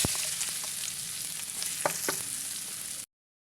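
Spices for a dal tempering sizzle steadily in hot oil as they are stirred, with a few sharp scraping clicks of the spoon against the pan, close and continuous.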